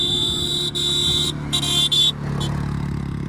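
Motorcycles ride in the Thar desert near Jaisalmer, a steady low engine rumble under a high whining tone that cuts in and out several times.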